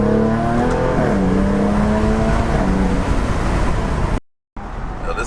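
A Jaguar F-Type engine revs as the driver works the paddle shifters, rising in pitch through upshifts with a loud, steady cabin drone before a brief cut and the engine resuming.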